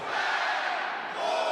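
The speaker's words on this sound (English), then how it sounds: "There are your Wolfpack chants." NC State Wolfpack fans chanting at the ACC wrestling championship, a loud, dense crowd roar filling the arena continuously.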